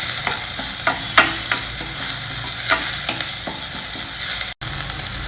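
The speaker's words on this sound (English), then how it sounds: "This is 1 onion I have chopped roughly and a small piece of ginger finely chopped. Just lightly fry this." Roughly chopped onion and finely chopped ginger frying lightly in a pan, a steady close sizzle with occasional stirring scrapes and clicks, no voices.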